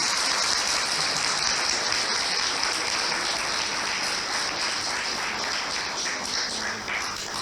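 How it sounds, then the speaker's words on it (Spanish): Sustained applause from an audience at a philosophy and art lecture, a dense and even wash of clapping that continues throughout. "yo después de este silencio les pido un aplauso"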